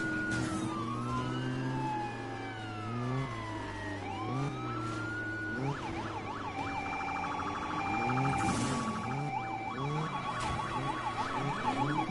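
Several police car sirens in the Need for Speed racing game wail and yelp together in overlapping sweeping tones over a droning car engine, loud and continuous throughout.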